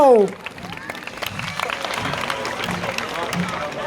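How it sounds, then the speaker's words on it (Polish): Audience applause at a steam locomotive event: a steady spread of clapping from a crowd rises after a brief opening sound and continues evenly throughout, with murmuring voices mixed in. "Proszę o brawa ci, którzy mają ręce wolne od aparatów fotograficznych."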